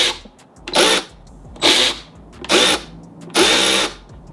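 A Milwaukee 2567-22 3/8-inch electric ratchet fitted with a 10 mm socket spins in four short, loud bursts, each a high whir separated by brief pauses.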